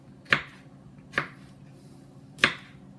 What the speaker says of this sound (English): now we're going to slice up our sweet peppers